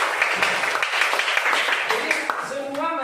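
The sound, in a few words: class applause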